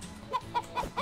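Chicken clucking in short bursts, several soft clucks spaced through a brief moment, close and moderately loud with faint background noise.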